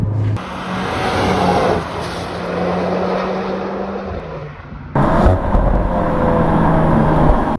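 A 333 hp Audi S3 engine rumbles with deep, bassy exhaust, steady throughout, then swells louder as the revs rise near the end; no voices.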